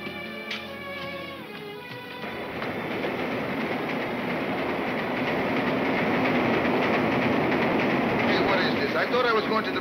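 A train sound effect for a radio drama opens with a brief whistle, then gives way to a rolling clickety-clack that grows louder and holds steady as the train passes close by.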